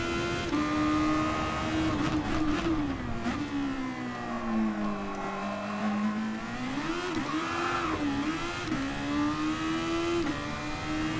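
Race car engine in Gran Turismo Sport revving hard and continuously, its pitch rising and falling with throttle through corners, loud and close with no talk over it.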